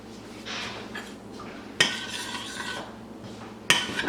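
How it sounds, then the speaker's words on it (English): A whisk works through a thick homemade cream soup mixture in a pot, giving soft wet swishing and scraping strokes, with two sharp metallic clanks of the whisk against the pot rim. "And this whisk will do the work."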